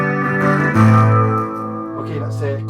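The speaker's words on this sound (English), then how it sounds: "here's what it sounds like playing a spiky guitar on acoustic" An electric guitar plays sustained chords through a Zoom acoustic simulator effect, with a bright, processed tone, loud and close, notes ringing out and decaying.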